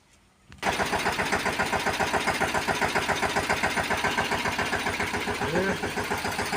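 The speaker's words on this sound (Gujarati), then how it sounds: "ટ્રેક્ટર શરૂ કરી અને તમને બતાવું" A tractor engine cranks over after a brief quiet moment, catches, and settles into a loud, steady, rhythmic idle with a low chugging pulse.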